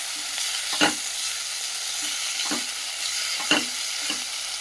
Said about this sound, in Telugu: ఇప్పుడు ఫ్రై అవుతుందండి మంచిగా